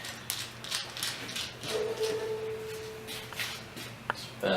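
Small screws are turned out of a white Dualshock 4 controller's shell, giving soft ratcheting clicks and faint scraping with a brief squeak, close and quiet with no talk.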